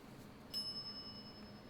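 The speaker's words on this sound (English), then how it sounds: "And we will ring the bell." A shop bell in The Secret of Monkey Island video game gives a single bright, clear ding that rings out briefly and fades over a faint quiet background.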